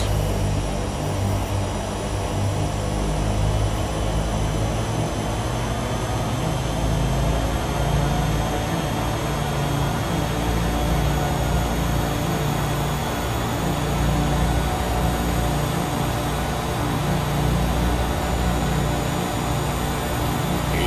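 A small propeller airplane roars at full power during its takeoff roll and climb, a loud, steady engine and propeller drone that holds from start to finish with no talk.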